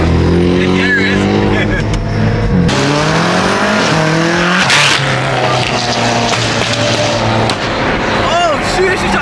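Cars revving hard and driving aggressively, loud engine roars with shifting pitch, a sharp burst and high squealing tire noise, with people talking over the racket.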